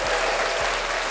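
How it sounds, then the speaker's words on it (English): A brief burst of audience applause at a live talk show, with a continuous wash of clapping from many hands at an even level throughout the short moment. "Round of applause if you're here."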